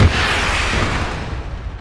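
A rocket explosion from an RPG in a video game, a loud broadband blast with a rumbling low end that holds steady for nearly two seconds with no voices over it.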